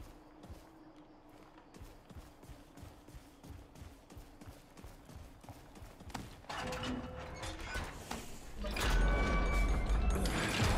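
Horse hooves clip-clop in the video game Remnant 2, a run of rhythmic thuds that grows louder and busier as other game sounds swell and intensify toward the end.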